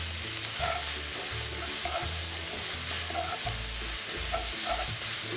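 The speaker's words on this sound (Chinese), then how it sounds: "然后再将乌冬面加入拌炒。 这时候选择用双筷子拌炒" Udon noodles stir-fried in a hot pan with chopsticks and red chili strips, a steady sizzle of frying with soft repeated stirring scrapes, close and continuous, no talking.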